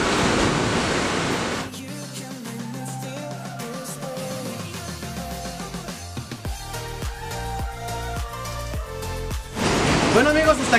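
Sea waves crash against rocks at Playa Villa Rica, a loud, rushing broadband roar at the start and again at the end, with music playing in between.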